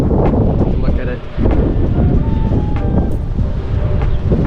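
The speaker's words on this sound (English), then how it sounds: "It's super windy. I don't know if you guys can tell." Strong wind buffets the microphone on the Sunrise Golf & Country Club course, a loud, rough rumble that swells and dips, with a person talking through it.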